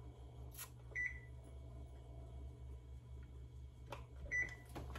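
A kitchen timer gives two short, clear beeps a few seconds apart in a quiet kitchen, with faint clatter around them.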